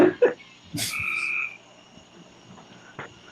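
A few short frog croaks, close and fairly loud, separated by quiet pauses, with one brief croak near the end.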